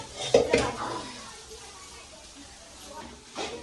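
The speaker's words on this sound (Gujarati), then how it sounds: "કોબીજ નાખી છે લીલા મરચાં શિમલા મિર્ચ ડુંગળી બધું શેકે છે હવે ફ્રાય કરે છે" Cabbage, green chillies, capsicum and onion stir-frying in a pan for village-style pulao, a few sharp spatula clanks against the pan over a soft sizzle, with a voice briefly heard.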